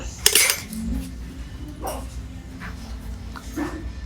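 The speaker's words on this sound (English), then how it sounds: "Can't pass up these spoons and then random metal in there, but 3 good wood spoons" Wooden spoons and loose metal utensils clatter and clink as they are picked through in a thrift store, with a few sharp rattles at the start and lighter scattered knocks after, close by over a low store hum.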